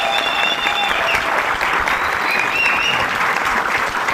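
Steady audience applause at a lively stage show, dense and continuous throughout, with a few faint voices and whistles rising above the clapping.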